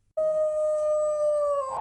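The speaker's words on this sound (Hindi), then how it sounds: "चारों तरफ बस हवा की सीटी और कहीं कहीं कुत्तों के रोने की" A single dog gives one long, loud, steady howl that holds for about a second and a half before fading, heard alone and close against a silent night background.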